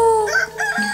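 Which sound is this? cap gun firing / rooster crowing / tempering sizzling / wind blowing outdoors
rooster crowing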